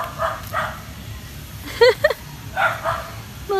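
A dog gives several short yips and barks in scattered bursts, fairly close, against a low steady background rumble.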